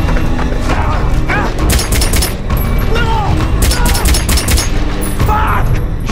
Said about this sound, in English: You shot two fucking guards, Elvis.